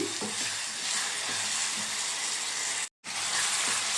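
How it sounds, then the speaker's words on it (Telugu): Onions seasoned with turmeric and salt sizzle steadily in hot oil for a boondi kaju curry while a spoon stirs through them; a bright, continuous frying hiss fills the clip, broken by one brief silent gap near the end. "ఇలా పసుపు సాల్ట్ వేసుకుంటే ఉల్లిపాయ అనేది తొందరగా ఫ్రై అవుతుందండి"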